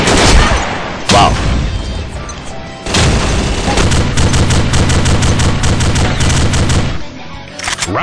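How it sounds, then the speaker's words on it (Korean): Airstrike bombardment in the online shooter Combat Arms: a dense, loud barrage of rapid blasts and gunfire pounding in a steady rhythm for several seconds, with a sharp burst early on. "저거는 폭격으로 갈아버려야 되겠다"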